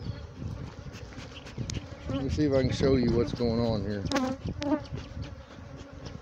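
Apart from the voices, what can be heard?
honey bees buzzing around hive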